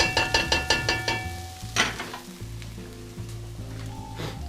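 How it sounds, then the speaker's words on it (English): Onion and garlic fry in a pan, a soft steady sizzle running under a quick series of clinking taps at the start, with occasional scrapes and knocks as the pan is worked. "by the time the onion turns golden, the garlic will be also ready"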